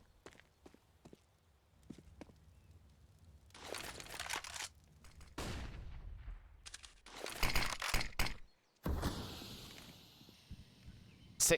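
Rifle fire in a Counter-Strike match on the Inferno map, coming in short sharp bursts and sprays between quieter stretches of footsteps and movement, with no voices over it.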